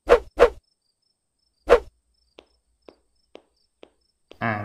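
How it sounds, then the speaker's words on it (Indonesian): Crickets chirp at night in a cartoon: three loud, close chirps at the start, followed by a sparse run of much fainter, shorter chirps in near silence. "Itu kan suara jangkrik."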